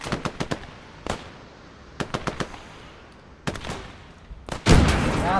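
A Boys anti-tank rifle and other small arms fire in a video game battle as armour advances, sharp cracking shots coming in quick clustered bursts with pauses, closing in a heavier sustained volley.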